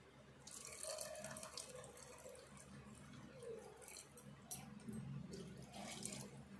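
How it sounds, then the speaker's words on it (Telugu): Water trickles faintly into mutton masala in a cooking pot, a soft, continuous pouring splash with small gurgles throughout. "కొన్ని వాటర్ పోసుకుందాము."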